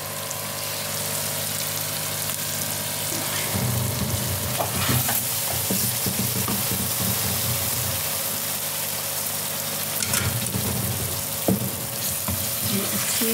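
Ground tomato paste masala fries in a pan with steady, close sizzling, while spatula scrapes and stirring strokes come in bursts around the middle and near the end. No one speaks.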